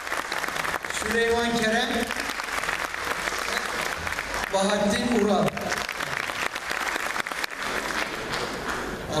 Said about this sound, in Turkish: Alkışlarınız için teşekkür ederim